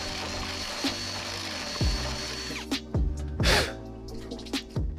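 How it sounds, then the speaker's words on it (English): A cordless drill fitted with a 1-inch spade bit bores into a wooden door edge for a deadbolt, a steady close whir broken by several short bursts and clunks. "get a 1-inch spade bit along with my drill"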